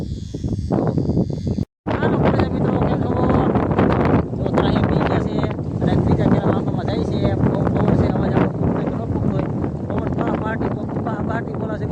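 Strong storm wind roars and buffets loudly and continuously, with one brief drop-out early on, as rain is about to start.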